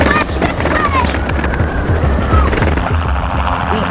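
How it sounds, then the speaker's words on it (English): A helicopter near a shore drones in a loud, continuous, throbbing roar with rhythmic rotor chop, with voices over it. "We decided to just run toward the helicopter."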